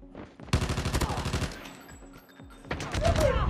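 Rapid automatic gunfire bursts in a Call of Duty-style first-person shooter, a loud rhythmic stream of shots followed by a pause and another burst, with quiet game sounds between.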